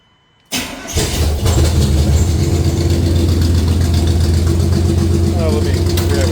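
An A-Team van engine, fitted with 1.6 rocker arms on the exhaust valves, cranks briefly, catches and fires up, then settles into a loud, steady, rumbling idle that continues alone to the end.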